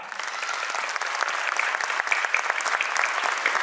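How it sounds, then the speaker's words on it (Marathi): An audience at a school annual concert applauds loudly and continuously, a dense crowd of hands clapping throughout with no speech over it. "मग जोरदार टाळ्या."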